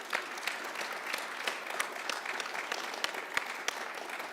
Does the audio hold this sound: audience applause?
yes